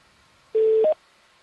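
Cell phone dialing tones: a single short beep followed immediately by a second, higher-pitched tone, clear and close against near silence.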